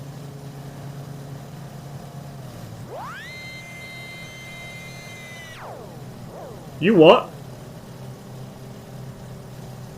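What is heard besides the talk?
aircraft engine noise in Microsoft Flight Simulator video game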